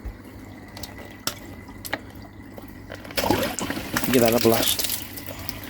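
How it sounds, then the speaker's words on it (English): A hose pipe runs water through a faulty UV system, flushing it, with a rushing, gurgling surge building in the second half, rising louder near the end; someone speaks briefly over the flow. "that should flush the whole system out"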